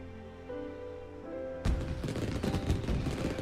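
Fireworks burst in the video game Snowbreak: Containment Zone, a sudden loud barrage of crackling, booming explosions that breaks in after a quiet musical stretch and continues as a dense, rapid volley.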